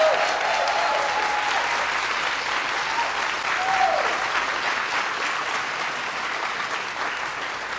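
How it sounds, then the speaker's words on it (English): Sustained applause from a large crowd celebrating President Biden and the First Lady at a Virginia COVID progress event, loud and steady throughout, with a faint voice briefly rising over the clapping. "give a round of applause for the President and the First Lady of the United States of America"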